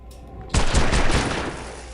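Rapid gunfire from dual-wielded guns in the Red Faction 2 video game bursts in suddenly after a quiet moment, loud and dense, with fast overlapping shots that continue to the end.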